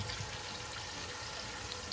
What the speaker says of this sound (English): Pour the vinegar,